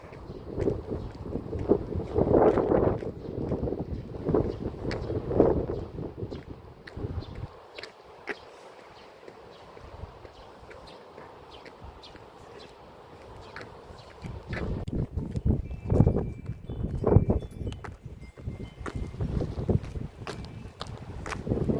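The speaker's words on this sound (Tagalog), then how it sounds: "Malakas yung hangin." Strong, cold wind after a snowfall buffets the microphone in heavy gusts, loud at the start and end with a calmer stretch in the middle.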